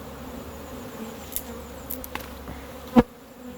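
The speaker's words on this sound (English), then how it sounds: "We have a lot of bees." A soft, continuous hum of many honeybees buzzing close by in a hive box, with a few light taps and one sharp knock near the end.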